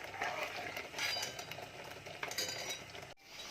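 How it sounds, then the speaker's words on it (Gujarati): A spoon clinks and scrapes in a pan while bottle gourd and milk are stirred and cooked down together, with steady close scraping and a low simmer throughout, and no voices. "દૂધીને પણ હલાવતા જઈશું, દૂધને પણ હલાવતા જઈશું અને બરાબર શેકાવા દઈશું."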